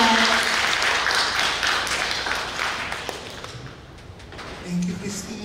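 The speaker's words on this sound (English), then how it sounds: "A warm applause, everyone." Audience applause at a general membership meeting, a dense burst of clapping that starts loud and gradually thins and fades over several seconds, with a voice briefly heard near the end.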